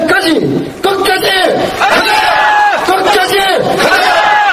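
Crowd at a hunger-strike rally against party nominations shouting a slogan back in unison, loud repeated collective chants in a call-and-response rhythm, several bursts with brief gaps between them.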